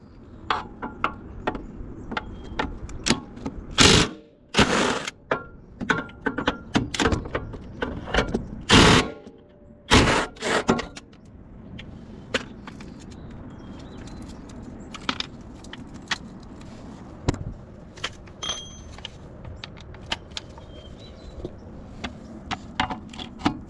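Loose metal bolts and tools clink and rattle during suspension work, as 14mm bolts are removed from a car's upper control arms. Sharp clanks and ratcheting come in irregular bursts, close by, with quieter stretches of fiddling between them.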